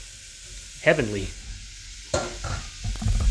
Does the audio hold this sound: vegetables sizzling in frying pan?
yes